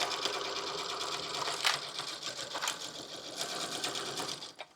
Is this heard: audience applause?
no